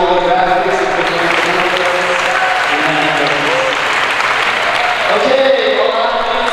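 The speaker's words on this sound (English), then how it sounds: "can we give a big round of applause for Justice?" Steady, loud applause from a high school signing day crowd at Eastwood HS, a continuous wash of many hands clapping for the whole stretch, with a voice faintly threaded underneath.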